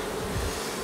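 A large honeybee colony hums from an open hive in a steady, dense buzz, close and continuous, with no voices.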